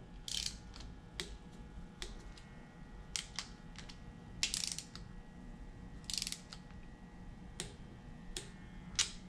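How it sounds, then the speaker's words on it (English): Torque wrench tightening Mustang 4.6 2-valve timing chain bolts, faint close ratchet clicks in short rhythmic bursts with pauses between, against a quiet background hum. "I'll go and torque these down."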